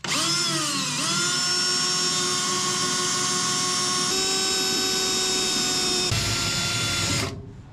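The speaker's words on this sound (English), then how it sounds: "Let's pop these spot welds here." A drill bores out spot welds in a rusty car spare wheel well, a loud, close, sustained high-pitched whine that shifts pitch as it bites into the metal, then winds down at the end.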